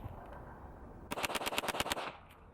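A Hi-Point JCP .40 pistol fires a fast string of about eight loud shots outdoors, evenly spaced over roughly a second after a quiet stretch.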